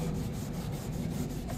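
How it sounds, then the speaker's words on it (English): A sanding block with 400 grit sandpaper rubs back and forth over a car bodykit on a project AE86, making a steady rhythmic scraping with regular strokes about every fifth of a second, close and continuous. "this is 400 grit. It's actually sanding pretty nicely."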